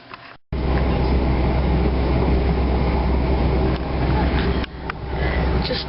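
Passenger train ride from Weymouth to London Waterloo, with a steady, loud rumble of the carriage and low wheel noise running throughout, broken briefly by a short drop near the start and a dip toward the end.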